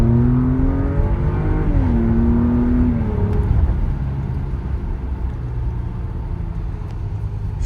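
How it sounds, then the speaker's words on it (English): A 2019 Porsche Cayenne in Sport Plus mode accelerates hard from inside the cabin. The engine hum rises in pitch, drops at two quick gear shifts, then settles into a steady, loud road roar. "So you can see, shifts smooth, accelerates well"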